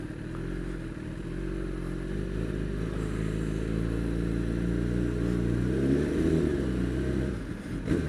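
A 2013 sport motorcycle, Kawasaki ZX10R or Honda CBR1000RR, being ridden, with a steady engine drone and rising revs heard from the rider's position over continuous wind noise.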